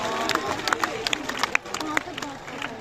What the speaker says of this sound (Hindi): उन आत्माओं के लिए तालियां